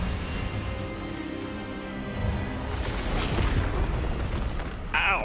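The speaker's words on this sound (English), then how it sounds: "Expelliarmus!" A spell cast in the video game Hogwarts Legacy, a dense rumbling magical burst with booming crash-like swells and sustained roar, ending in a bright zap.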